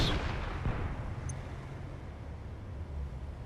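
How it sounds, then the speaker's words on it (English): Enemy artillery in the RTS game Systemic War booms at the start with a heavy blast, then a long rumbling decay fades under a low steady background, with no voices. "Enemy artillery incoming."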